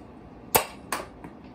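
A Buzz Bee Range Master toy blaster fires with two sharp, close snaps about 0.4 seconds apart, then a fainter click, with quiet before and between them.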